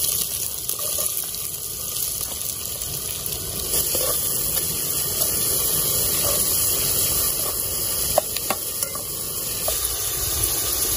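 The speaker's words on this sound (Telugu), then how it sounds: "మనం కటింగ్ చేసి పెట్టుకున్న ఉల్లిపాయలు అయితే వేసుకోవాలి" Chopped onions fry in three spoons of oil for tomato rice, a steady hissing sizzle that holds throughout, with a few light clinks of a utensil stirring the pan.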